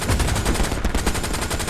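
Tank guns in the Hell Let Loose video game fire at infantry in a loud, rapid, even burst of automatic gunfire that runs for the whole short stretch without pause or speech.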